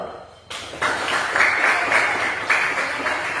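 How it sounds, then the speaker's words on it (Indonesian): A school class claps together in a lively burst that starts abruptly and continues steadily, with pulses of clapping rising and falling, close and fairly loud. "tepuk tangan dulu"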